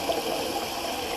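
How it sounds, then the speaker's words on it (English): A razor rinsed under a running tap during a shave, with a steady, even hiss of flowing water that runs unbroken through the short moment, fairly close and alone without talk. "Just rinsing the razor."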